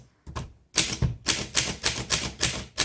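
A 1939 Underwood Universal manual typewriter clacks close up, keys striking in a quick, steady rhythm of sharp individual taps with no talking.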